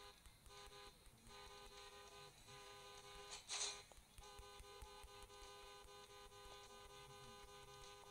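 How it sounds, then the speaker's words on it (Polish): Cartoonish car horn in the mobile racing game Hill Climb Racing 2, a faint, sustained tonal toot over continuous game sound with a brief brighter burst midway. "Samochody tak śmiesznie trąbią i można nimi tak podrzucać."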